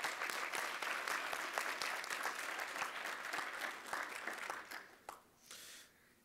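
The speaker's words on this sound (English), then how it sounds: "let's give them a big round of applause" Audience applause at the CUGH 2014 conference business meeting and awards, a dense, steady clapping from a large crowd that holds for about four seconds, then thins and fades out into scattered claps.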